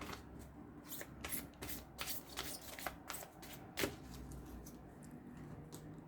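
Playing cards being shuffled by hand before a draw, a steady papery riffling with repeated crisp bursts, close and continuous, with no talking.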